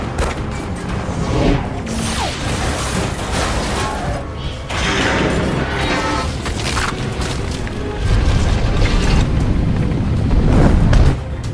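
Dense, rumbling booms and crashing debris roll continuously, with a heavier low-end surge near the end; loud cinematic destruction with no clear speech, from a superhero film explosion of Tesseract energy destroying a S.H.I.E.L.D. base.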